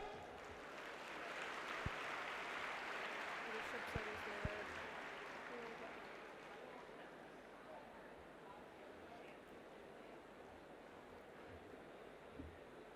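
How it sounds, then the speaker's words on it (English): A broad wash of audience applause for panelists at a technical conference session, swelling then gradually thinning and fading, fairly distant and soft, with a few sharp knocks. "A huge round of applause for the panelists."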